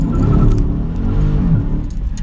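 A Dodge Scat Pack on stock tires launches in first gear, its engine snarling loudly up through a rising pitch sweep as the rear wheels spin, close and harsh over about two seconds.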